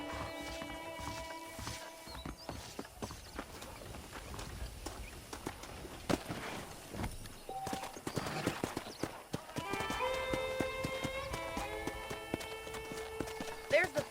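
Horse hooves clip-clop in the video game Red Dead Redemption, with near, rhythmic steps and occasional neighing under overlapping voices and game sounds.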